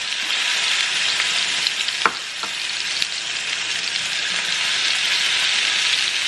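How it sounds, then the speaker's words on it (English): Shrimp flash-fry in a hot skillet with a loud, even, bright sizzle that continues throughout, broken by a couple of sharp clicks near the two-second mark. "Just flash fry them for about"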